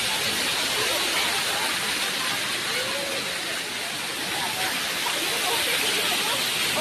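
A natural waterfall pours down from the hills in a constant, even rushing roar that fills the whole stretch, with faint voices now and then beneath it.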